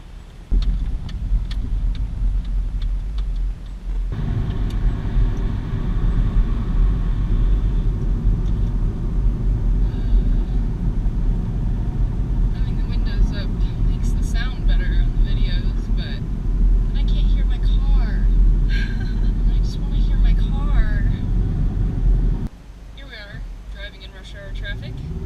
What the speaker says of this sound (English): Driving a manual in traffic is not a whole lot of fun.